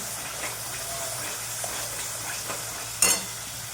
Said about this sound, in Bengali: মশলাটা তেল ছেড়ে দিয়ে দিয়েছে আরও একটু কষব